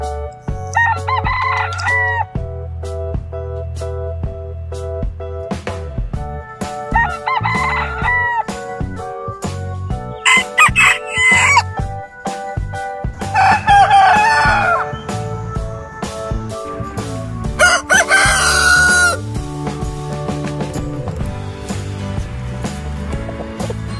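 A rooster crows repeatedly, with several loud, drawn-out calls spaced a few seconds apart and close by, set over steady background music with occasional clucking.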